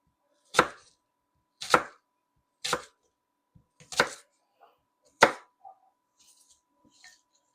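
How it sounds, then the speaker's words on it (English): Apples being cut with a knife on a board for apple fritters: five crisp, separate chopping thunks spaced about a second apart, close and clear in a quiet kitchen, followed by faint handling noises. "Apple cutting done."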